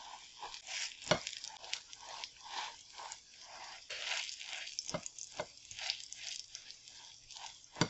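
Eggs and bread frying in a pan, a soft steady sizzle with rhythmic pulses and a few light clicks, faint and close.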